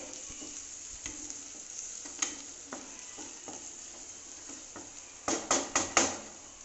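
Crushed ginger and garlic sizzle in a frying pan, giving a low steady hiss broken by scattered clicks and a few louder scraping stirs near the end, with no voices.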